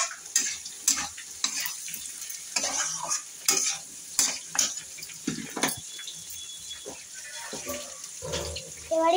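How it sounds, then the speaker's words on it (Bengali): Ginger frying in a pan for a pointed gourd dish is stirred with a spoon, giving repeated scraping clatters and knocks over a soft sizzle, close and irregular, with occasional talk nearby. "হচ্ছে আদা দিয়ে দিল মা। এবারে নাড়িয়ে নেবে।"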